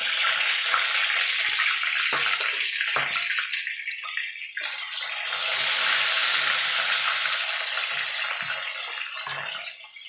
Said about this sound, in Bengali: এইভাবে বাকি যে একটা মাছ আছে সেটাও আমি ভেজে নেবো